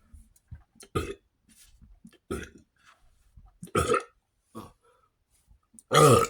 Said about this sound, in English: I don't like burping too much like that.